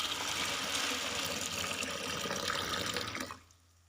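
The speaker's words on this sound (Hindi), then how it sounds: "पानी शामिल करेंगे इसमें।" Water streams steadily into a cooking pot for a potato and black-eyed pea curry, a loud continuous pour that cuts off just before the end.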